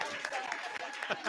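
Audience applause after a lecture quiz on animal reproduction, a dense, steady wash of clapping across the whole short burst with voices mixed in.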